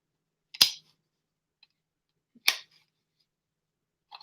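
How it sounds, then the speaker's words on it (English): A knife cuts squash into smaller pieces: three crisp, isolated chops spaced about two seconds apart, each a sharp snap with quiet between, close and clear with no talking. "So I'm just starting to cut up some of the squash here."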